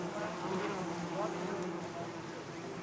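A continuous low buzzing of large Nepalese honey bees hovering close by, droning steadily throughout the short stretch.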